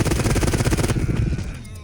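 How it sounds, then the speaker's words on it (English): Machine gun fire in the video game Hawked, a rapid, loud, steady burst of shots for about a second that stops and leaves a ringing tail. "the machine guns in this game are so powerful"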